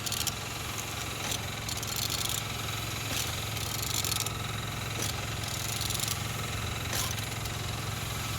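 Engine of a vehicle registered SJ56ZZY, a Z14XEP unit, being turned over, giving a steady continuous mechanical drone with a low hum and periodic brighter noise bursts throughout.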